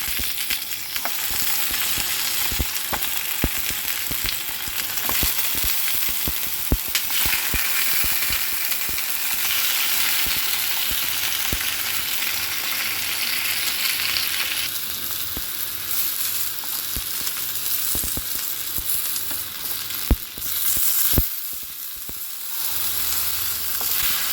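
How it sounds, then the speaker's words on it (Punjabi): Cut tomatoes cooking in a hot pan give a steady, dense sizzle and frying hiss throughout, with occasional clicks and scrapes from stirring and no voices heard. "ਇਹਦੇ ਵਿੱਚ ਆਪਾਂ ਇਹਨਾਂ ਨੂੰ ਰੱਖਾਂਗੇ ਟਮਾਟਰਾਂ ਨੂੰ ਇਸ ਤਰ੍ਹਾਂ"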